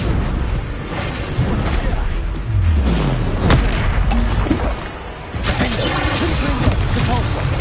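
Booming Bombarda blast spell explosions in the game Hogwarts Legacy, loud crashing bursts over a dense rumbling game soundtrack, with a voice calling out.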